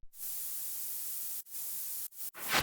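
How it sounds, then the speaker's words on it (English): Side-chained white noise in a future bass beat: a loud, bright static hiss that pumps and briefly drops out in short rhythmic gaps, then swells again at the end, alone without voices. "Add some side-chained white noise to the beat part to create energy and keep the track moving"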